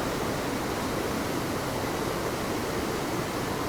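A video game waterfall at the north end of the map roars as a constant, dense rush of falling water, steady and loud throughout with no voices.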